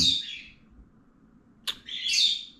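Pet birds chirping: a bright trill, a sharp squawk, then another burst of high chirps, close by in a quiet room.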